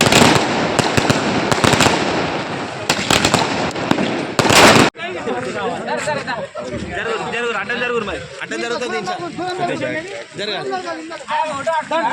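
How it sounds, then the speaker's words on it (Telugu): Firecrackers burst in a loud, rapid crackling barrage at a BJP victory celebration in Ambedkar Square, Veldurthi, then stop abruptly, leaving a crowd chattering and cheering. "అంబేద్కర్ చౌరస్తాలో టపాకాయలు కాల్చి మిఠాయిలు పంచుకున్నారు"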